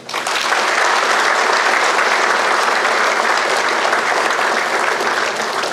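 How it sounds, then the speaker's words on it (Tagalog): A full audience claps for awardees at an Army service excellence event, with dense, steady applause holding at a loud, even level for several seconds without a break. "nais kong bigyan ng uh, masigabong palakpakan nating lahat yung mga awardees natin"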